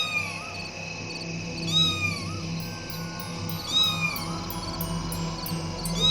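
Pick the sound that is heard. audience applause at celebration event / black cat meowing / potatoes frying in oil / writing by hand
black cat meowing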